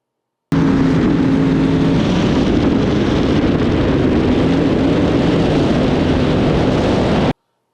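Race car engine roaring at a Northwest Nights roll racing event, a loud sustained full-throttle drone with heavy wind buffeting, running steadily for about seven seconds before cutting off abruptly.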